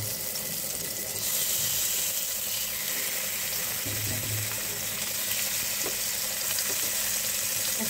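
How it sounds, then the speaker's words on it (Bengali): Fish pieces frying in hot oil in a frying pan give off a steady, fairly loud sizzle and crackle that continues evenly for the whole stretch, with no talking. "এখন মাছগুলো আমি তেলে ভেজে নেব।"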